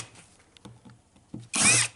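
A power drill briefly whirs while removing screws from hard drives during a teardown, a short loud burst near the end after a few quiet clicks and handling taps.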